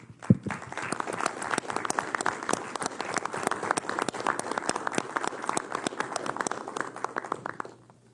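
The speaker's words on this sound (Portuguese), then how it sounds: "solicitar a todos uma salva de palmas para esse pessoal" An audience at a Brazilian Ministry of Health press event applauds in sustained, dense clapping that carries on evenly for several seconds, fairly close and without speech.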